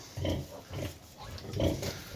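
Pigs grunt in a farmyard in several rough bursts of snorting and oinking, close by with a noisy background.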